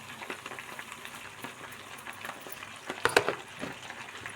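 Cabbage with salt frying in a pan and being stirred, a steady close sizzle broken by scraping stirs and a sharper clatter near the end.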